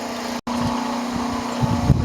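Vacuum pump running steadily during filtration in a gold refining setup for ceramic CPUs, a loud continuous motor drone with a steady hum and a brief cutout near the start.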